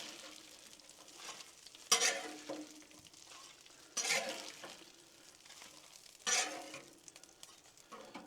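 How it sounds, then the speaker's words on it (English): Tortilla shells sizzle on a Blackstone griddle, a quiet steady hiss broken by three sharp scrapes of a spatula flipping them at even intervals. "flip your tortilla shells. Let them cook as long as you want."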